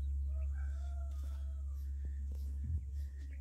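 Thirty-day-old chickens cluck softly on a farm while a rooster crows, both set over a steady low hum and a few brief knocks.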